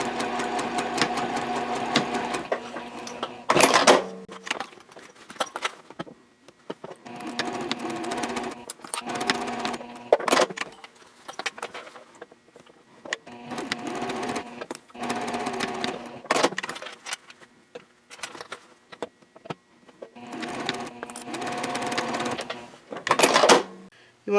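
A sewing machine stitches darts on a sling bag, running in several loud, close bursts of rapid needle chatter separated by short pauses for backstitching and repositioning, with no talking.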